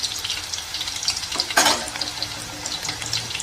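Plantain fry coated in masala sizzles in a pan, with close crackling and a sharp burst of stirring scrape partway through.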